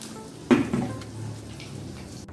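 A lid clanks back onto a cooking pot of young jackfruit stew: one sharp metallic knock, a lighter second tap, then quiet room tone.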